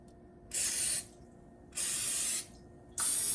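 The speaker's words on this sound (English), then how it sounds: "So I'm just going to spray down my knife and my spatula." Three short hissing bursts of cooking spray onto a knife and spatula, close by, evenly spaced with brief pauses between them.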